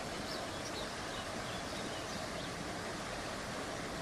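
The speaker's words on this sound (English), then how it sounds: "Sound of the running water" A steady, full rush of running water from a stream in an Idaho pine forest in the Sawtooth Mountains, continuous and close, with faint bird chirps above the flow and no talking.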